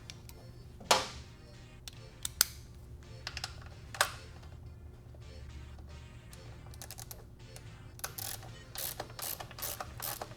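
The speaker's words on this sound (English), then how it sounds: "once I break it loose, I'm going to switch over to my ratchet" A hand ratchet winds out a factory-tight bolt on a 2016+ Yamaha FZ-10 motorcycle during a frame slider install, giving close, crisp bursts of rapid clicking in uneven runs with short pauses and no talking.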